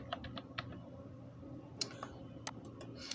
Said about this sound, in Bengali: ট্রাভেল এজেন্সি লিখে ইন্টারপ্রেস করলাম